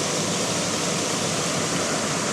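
River current flowing below a dam, a steady close rushing hiss of moving water, loud and unbroken with no voices.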